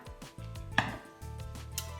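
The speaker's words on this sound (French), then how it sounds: "Ça veut dire que je coupe des tout petits bouts. Très fin." A knife chops vegetables very finely on a board for ratatouille, giving a few quick close taps followed by a steady run of rapid chopping, with no voices.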